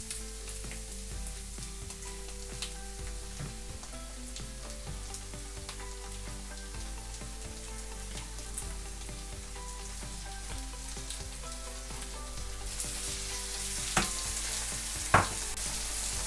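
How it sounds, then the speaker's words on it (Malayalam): About 300 grams of tomato puree cooks in a pan for spaghetti bolognese with a constant soft sizzle and bubbling, a continuous close frying hiss with a couple of sharper pops near the end. "നമുക്ക് നിയർലി ഒരു 300 ഗ്രാം ടൊമാറ്റോ പ്യൂരെ നമുക്ക് ആഡ് ചെയ്ത് കൊടുക്കാം"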